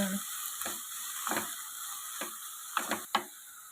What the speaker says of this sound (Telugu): ఉసిరికాయని కొంచెం వేయించుకోవాలి.